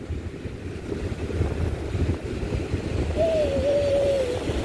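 Wind and rolling ocean waves at Hawke's Bay beach, a steady rushing surf with gusty wind on the microphone, plus a brief hooting tone near the end.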